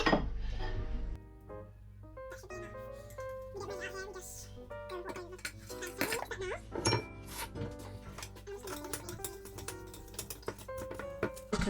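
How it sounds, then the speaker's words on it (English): Brown sugar is stirred into microwave chocolate chip cookie dough in a bowl, with close, irregular clinks and scrapes of a utensil against the bowl and a voice talking over parts of it. "So I'm mixing 1 tablespoon of sugar."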